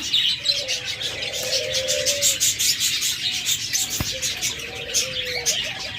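Caged pet birds such as cockatiels, budgerigars and lovebirds, kept for sale alongside doves, call with steady chirps and soft coos, a dense continuous chorus filling the space with one sharp click partway through.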